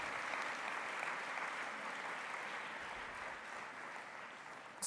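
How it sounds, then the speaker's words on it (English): Steady applause from a conference audience for a panel, an even wash of clapping that carries on evenly and sounds somewhat distant and soft. "Can we give them a round of applause for such an important panel?"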